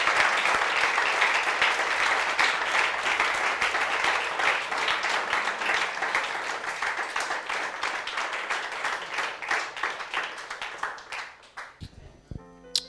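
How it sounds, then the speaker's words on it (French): Church congregation applauding and cheering during a Sunday service, a loud continuous wave of clapping that gradually thins and fades toward the end, with voices mixed in beneath. "On la raccompagne par des acclamations."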